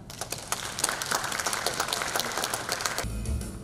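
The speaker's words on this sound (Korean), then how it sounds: "이 자리에 계신 모든 분들이 수상의 기쁨과 축하의 박수를 함께 나누시기 바랍니다" Audience applause at a literary award ceremony, steady crowd clapping at moderate level that stops abruptly near the end, with little talk.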